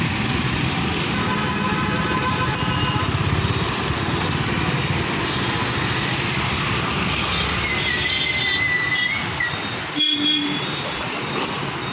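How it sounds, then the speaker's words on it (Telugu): A train passes close by near Vijayawada railway station in India, a loud, steady rumble of rolling wagons lasting throughout, with a thin wheel squeal and a brief dip toward the end. "రైలు పోతూ ఉంది, రైలు కూడా కనిపిస్తూ ఉంది, విజయవాడ రైలు"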